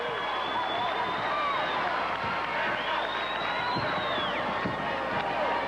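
An enthusiastic crowd at a state tournament girls' basketball championship game roars and cheers continuously, a loud, dense wall of voices and applause with occasional whistles rising above it.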